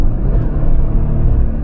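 A 2019 Jeep Wrangler Rubicon with a 3.6 V6 engine rumbles from inside the cabin during gear changes, a steady, deep drone of engine and road noise with no talking.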